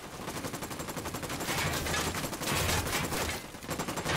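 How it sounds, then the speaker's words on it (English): Gunfire in the video game Ghost Recon Wildlands rattles as rapid, repeated automatic bursts at moderate distance, continuous across the span and swelling louder in the middle. "who's shooting me right now?"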